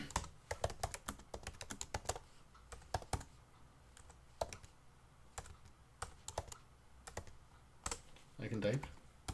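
Close, dry clicking of computer keyboard keys in quick irregular bursts with short pauses between them, and a brief murmur near the end.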